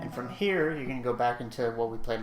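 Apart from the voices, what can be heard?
None of the usual background noises is heard.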